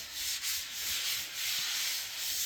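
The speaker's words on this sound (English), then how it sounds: "using a fresh sandpaper and both of my arms to sand" Fresh sandpaper worked by hand over drywall mud, giving a steady, close, continuous rasping scrape with slight surges as the strokes change, and no talking.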